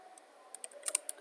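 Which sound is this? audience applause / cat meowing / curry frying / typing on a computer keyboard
typing on a computer keyboard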